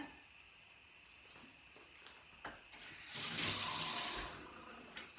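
Water runs from a kitchen sink tap while a utensil is rinsed during home jam making, a soft hiss swelling into a louder rush midway before easing off, with faint knocks at the start and end.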